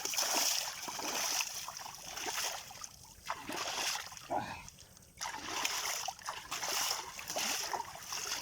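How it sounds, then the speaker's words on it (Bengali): Freshly caught fish are washed in muddy Sundarbans river water, giving repeated sloshing and splashing bursts. Some are close and loud, others lighter, over a steady watery background. "এবার আমাদের মাছ ধোয়া হবে, পরিষ্কার চকচকে হবে"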